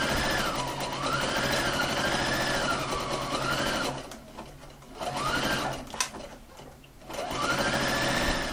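A sewing machine runs a zigzag seam along a closed edge, its motor whirring steadily close by with a short pause around the middle before stitching resumes at full speed.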